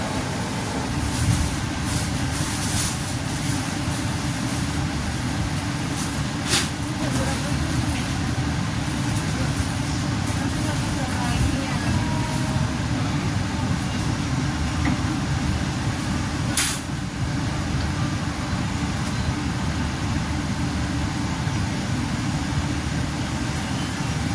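Steady rumble and rhythmic clatter inside the moving Bogowonto passenger train in Indonesia, continuous and even, with a couple of brief sharp squeaks along the way.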